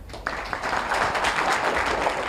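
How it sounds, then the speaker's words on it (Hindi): A room of children at a madrasa clapping together, a dense steady patter of applause that starts abruptly and holds at an even level throughout. "इनके लिए तालियां हो जाए।"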